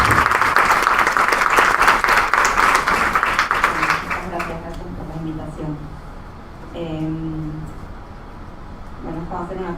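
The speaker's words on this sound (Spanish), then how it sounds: "Un aplauso por partida doble." An audience at a book-editing talk, honoring editors of the year, applauds loudly and densely for about four seconds, then the clapping thins and fades as a voice starts speaking over the tail end.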